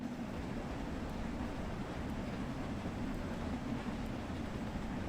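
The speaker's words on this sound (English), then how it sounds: "so long as the train keeps moving forward, then I think we're good" A train rolls steadily along the track in Train Sim World 3, Spirit of Steam, a continuous low rumble and rattle that holds level throughout with no pauses or voices.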